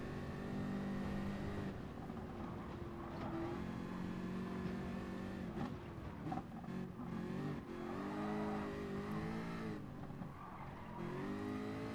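A BMW Group 3 race car engine in Gran Turismo Sport: a steady, high-revving engine drone with clear rising and falling pitch through gear shifts, braking and acceleration, alone and close throughout.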